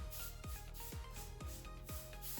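A brush applies chalk paint to a wooden dresser in close, rhythmic strokes, about four distinct swipes over a soft, continuous scrubbing texture.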